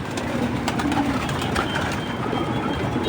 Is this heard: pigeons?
yes